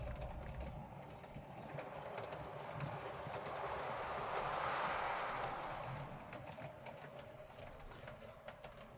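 A model train running along the sidings of a layout, a faint steady mechanical whir with light clicking over the rails. It swells toward the middle, then fades.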